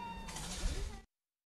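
A street cat in Yanaka gives a single drawn-out meow lasting about a second, close and clear, before the sound cuts to silence.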